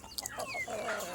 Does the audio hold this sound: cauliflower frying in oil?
no